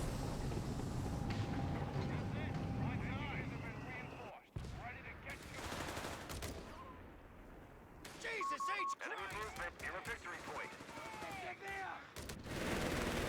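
Bursts of MG42 machine gun fire in the real-time strategy game Company of Heroes 3, crackling amid other battle sounds and steady commentary over the top.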